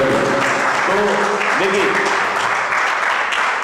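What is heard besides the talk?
loud applause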